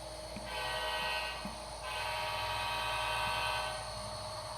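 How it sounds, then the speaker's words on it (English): A small electric train hums steadily along its track, with a high whine and faint rhythmic clicks of wheels over rail joints, close by and continuous. "we have a train running on the track"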